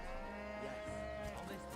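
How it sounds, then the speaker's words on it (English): A cow moos in Divinity: Original Sin, a long, steady, droning low call, close and prominent over quiet game ambience. "Did the cow just say moo?"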